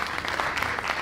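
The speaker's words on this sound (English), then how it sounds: "I don't know why you clap for your provost like that" An audience claps for their provost at a college of education conference, with close, steady applause lasting about a second.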